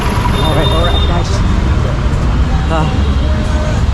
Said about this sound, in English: The traffic situation here in Kolkata is pretty bad. Everything is chaos, very chaotic and very noisy.